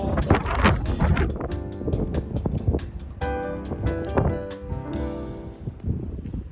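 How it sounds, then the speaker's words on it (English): Strong wind buffets the microphone on a beach at Klein Curaçao, roaring in loud, uneven gusts with no one speaking. "There's lots of wind here"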